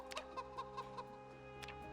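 Chickens cluck in a video game, a run of short, fairly faint clucks over a steady hum, with no talking.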